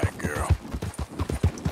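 A horse's hooves in Red Dead Redemption 2 clip-clop in a quick, regular rhythm, heavy and close, with faint ambient sounds above the steady footfalls.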